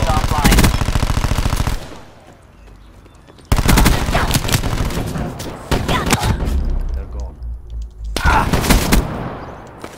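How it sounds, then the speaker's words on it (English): Gunfire in the video game Black Ops 4, a shotgun among the weapons, comes as loud, dense bursts of shots broken by short quieter gaps, with faint voices in the background. "He's using a shotgun"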